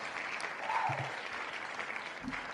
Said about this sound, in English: I like how in this like stock clapping sound, there was a guy who went, "What?"